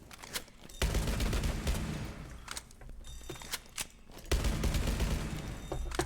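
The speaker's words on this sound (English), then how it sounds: "I'll just use my deagle and shoot" Desert Eagle pistol fire in Rainbow Six Siege comes as dense bursts of shots tearing through a reinforced wall, with debris crackle and heavy low impacts, loud and close in two long volleys.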